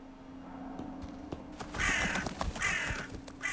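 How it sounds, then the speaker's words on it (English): Crows caw several times in the video game Wuthering Waves, a few harsh calls standing out clearly over a low, steady ambient hum in an eerie setting. "Ominous birds."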